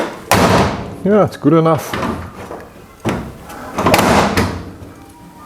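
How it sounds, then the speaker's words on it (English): A stiff-hinged wooden back door swings open and shut, giving sharp thumps and a creaking squeal, with brief talk between the movements, close by. "the back door is not quite as smooth as the front one"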